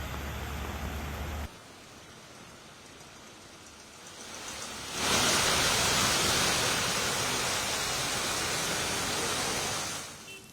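Heavy monsoon rain falls in Mumbai as a broad hiss. It starts fairly soft, swells into a loud, dense downpour midway, then eases off near the end, with no voices.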